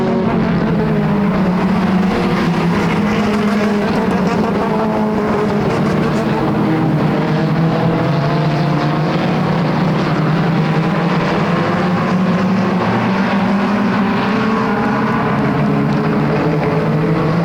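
Pure stock cars racing at Flamboro Speedway: a loud, continuous engine roar with shifting droning tones as several cars circle the oval, steady throughout.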